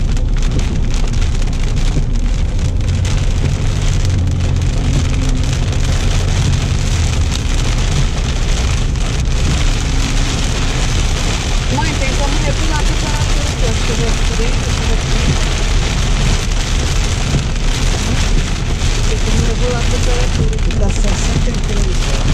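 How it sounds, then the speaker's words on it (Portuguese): Heavy, steady rain pounding down loudly and continuously, a dense roaring hiss with no letup. "Chovendo pra caramba."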